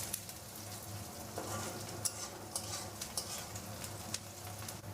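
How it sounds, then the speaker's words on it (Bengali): Onion frying in a pan for a traditional Bengali green banana peel paste dish, a steady soft sizzle with occasional scraping stirs, quiet and close with no talking. "পেঁয়াজটা মাঝের মধ্যে একটু নেড়ে দেবে, না হলে পেঁয়াজটা একদিকে ভাজা হবে আর একদিকে ভাজা হবে না।"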